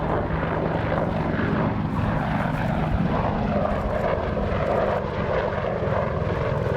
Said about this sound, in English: the aircraft returns to crowd centre for a close-up look at the 360-degree wing over